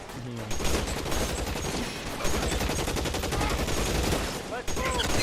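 Gunfire in LA Noire Remastered, a loud, dense run of rapid shots and overlapping bangs with brief pauses, under occasional voices in the game.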